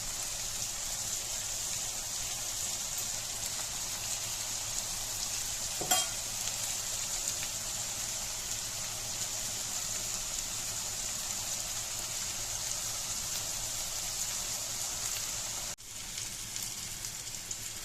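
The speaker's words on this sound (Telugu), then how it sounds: "కార్జనం కూరకి సంబంధించిన ఆనియన్స్ బాగా ఫ్రై అవుతూ ఉన్నాయి" Onions dusted with turmeric sizzle steadily in a pan for karjinam curry, a dense, even crackle that holds at one level throughout, with a single sharp tick partway through.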